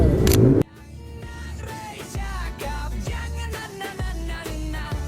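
Motorcycle engine started with a battery, a short loud start at the beginning, then the engine idling with rhythmic low pulses and periodic throttle revs.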